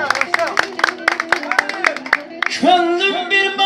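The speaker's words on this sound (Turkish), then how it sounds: "Bu yüreğden alkışlıyorum." Guests at a small village wedding celebration clap in quick, steady rhythmic claps, close and fairly loud, giving way to a voice singing or speaking at the end.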